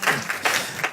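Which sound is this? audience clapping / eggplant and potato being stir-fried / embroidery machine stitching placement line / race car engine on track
audience clapping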